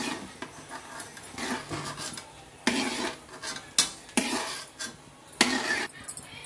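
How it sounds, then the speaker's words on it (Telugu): Pistachios and raisins being stirred and fried in a pan over a low flame for sheer khurma, with repeated scraping and clinking of a spoon against the pan in uneven bursts, close by and moderately loud, no talking. "ఇప్పుడు పిస్తా, కిస్మిస్ వేసుకుని లైట్గా ఫ్రై చేసుకుని తీసేసేయాలి"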